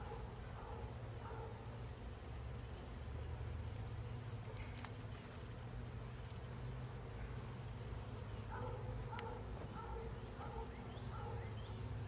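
Bees buzz steadily in a close, continuous drone, with a few brief clicks and knocks over the hum.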